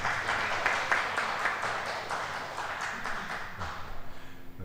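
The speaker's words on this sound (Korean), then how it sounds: "이렇게 한 박수 한번 치시자고" A church congregation applauds together during a Sunday worship service, a steady wash of clapping that lasts throughout, fairly close and even without any clear speech over it.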